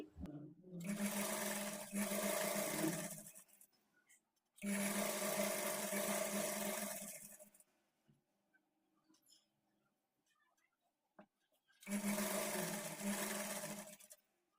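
A sewing machine stitches a trouser seam on chudidar pants in three separate bursts of a few seconds each, loud whirring runs broken by quiet pauses.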